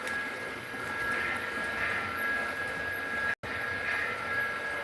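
A small Baltimore and Ohio model locomotive running on a layout, a steady whirring rumble with a faint high whine, continuing evenly with one brief dropout.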